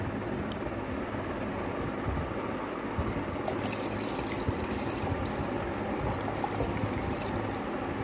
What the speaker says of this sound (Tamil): இப்போ நாம் இதில் கொள்ளு தண்ணியை நாம் இதில் சேர்த்துக்கலாம்.